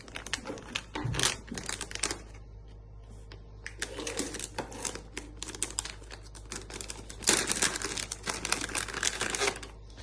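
A plastic bag crinkles and rustles as an item is drawn out of it, close and busy in several bursts, with quiet pauses between.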